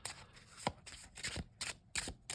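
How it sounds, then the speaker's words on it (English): A linen-finish Portrait de Paris poker deck by Artisan Tarot is overhand shuffled up close, giving quiet, rhythmic papery swishes and soft slaps in about six evenly spaced bursts. "It certainly overhand shuffles like a dream."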